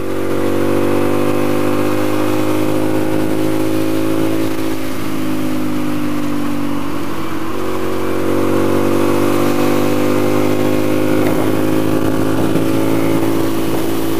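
A motorcycle engine revving hard toward its 12,000 RPM redline, loud and close, with sustained high tonal whine rising and dipping through gear changes over fourteen seconds, no talk.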